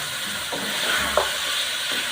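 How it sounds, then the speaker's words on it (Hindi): Mutton fries in a pan with a soft, steady sizzle and hiss that carries on evenly throughout, with a faint stir or clink partway through. "मटन थोड़ा सा फ्राई हो गया, मैं इसमें टमाटर डालूँगी।"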